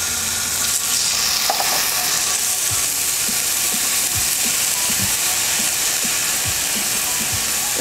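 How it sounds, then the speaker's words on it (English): Sofrito sizzles and fries steadily in olive oil in a hot cast iron pan, a loud continuous crackle with occasional soft stirring clicks and no voices. "I'm gonna add my tablespoon of olive oil, like so. Give that a little mix, make sure I coated the whole pan, and my tablespoon, 2 tablespoons of sofrito."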